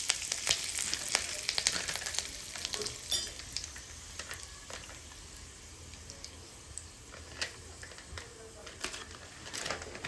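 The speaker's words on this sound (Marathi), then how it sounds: "आणि ह्यामध्ये आता मी 2 तमालपत्र तोडून टाकते. आत्ताच आपल्याला ह्यामध्ये 5 ते 6 कढीपत्त्याचे पानं टाकायचे." Bay leaves and curry leaves crackle and sizzle in hot oil for a chhole bhaji, a steady close frying hiss with sharp pops spread throughout, and no voices.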